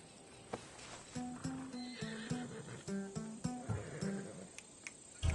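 In the Assassin's Creed Odyssey game, a horse whinnies in several drawn-out, wavering neighs, with hoof clops and snorts in between, fairly faint and with no voices over it.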